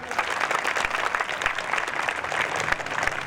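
Students clap together during self-defence training at a police parade ground, a dense, steady burst of many hands lasting a few seconds at moderate distance, with no talk over it.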